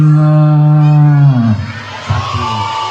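A group of children mimic a cow with a loud, drawn-out moo that slides downward and breaks into scattered shouts near the end.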